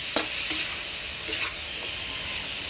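Pork for afritada is stirred in a hot pan, with a steady frying sizzle and a few soft utensil scrapes and taps against the pan, close up.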